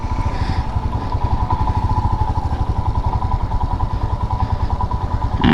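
Royal Enfield Himalayan BS6 motorcycle riding slowly through a U-turn, its single-cylinder engine thumping in a loud, steady, close rhythm with light mechanical clatter.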